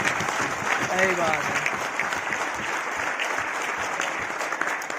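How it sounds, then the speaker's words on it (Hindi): An audience at a celebration speech event applauds warmly, a dense steady clapping that fills the room while someone speaks briefly over it near the start. "गरम जोशी से ताली बजानी चाहिए"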